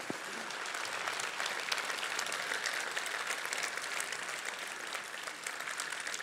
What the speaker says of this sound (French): je vous demande d'applaudir comme ils le méritent les maires d'Alès Agglomération